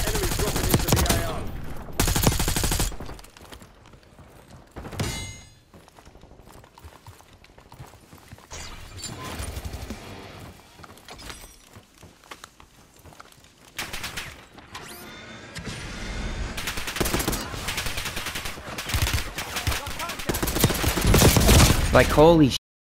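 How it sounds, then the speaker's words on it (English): Gunfire in Call of Duty Warzone on Rebirth Island strikes the player in bursts, some loud and close, spread across the clip with quieter gaps between. A player's voice reacts over the shooting. "why am I getting shot in the back?"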